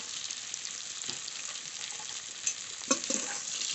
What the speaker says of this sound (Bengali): আলু খুব ভালো করে ভেজে নিয়েছি